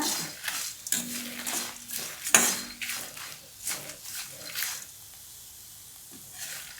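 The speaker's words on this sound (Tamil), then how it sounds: "பாருங்கள், நல்லா வறுத்துட்டே இருக்கேன்" Moringa leaves roast in sesame oil in a pan, giving a soft continuous sizzle with intermittent scraping and clinking as they are stirred, a sharper clink near the middle, then the stirring settles into quieter sizzling.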